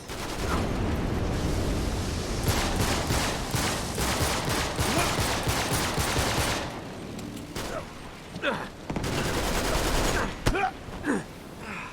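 Rapid gunfire fills the Uncharted 3 video game, dense bursts of automatic shots and single cracks in clusters, loud and continuous for long stretches with brief lulls, and a voice talks in between.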